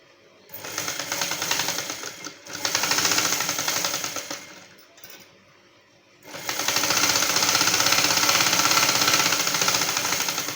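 Sewing machine stitching the shoulder seams of a dress coat, close and loud with a rapid mechanical rattle, running in three bursts separated by a short quiet gap.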